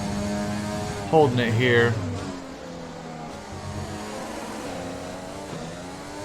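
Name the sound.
car engine revving through gear shift in F1 2020 video game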